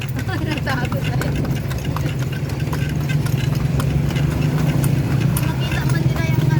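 Horse hooves clip-clop steadily beneath a kalesa carriage ride on a street, close and rhythmic amid traffic noise and an engine hum, with people chatting throughout.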